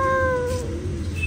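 A human voice mimics a small kitten with one drawn-out, wavering meow that slides gently downward in pitch and trails off. It is close and clear over faint background noise.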